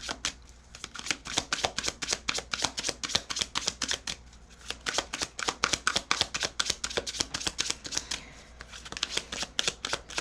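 Tarot cards are shuffled by hand in a long run of quick riffling bursts, close and crisp, with a couple of short pauses between rounds.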